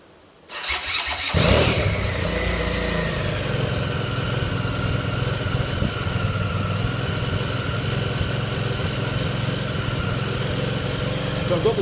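A GV650 motorcycle engine cranks and catches after about a second, then settles into a steady, loud idle with the choke still open, running alone close by.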